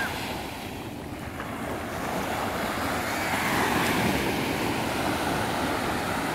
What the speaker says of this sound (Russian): Такой прибой.